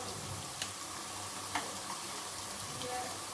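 Ground spices, dried coriander, cumin and turmeric, frying in a pan with salt while cooking Lahori black pepper chickpeas, a steady soft sizzle with a few faint stirring clicks, close and continuous without talk.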